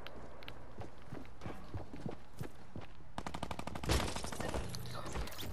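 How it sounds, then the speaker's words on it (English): Gunfire in a video game: scattered shots and hoofbeat-like thuds give way to rapid, loud automatic bursts that rattle in quick succession near the end. "Someone's shooting at me."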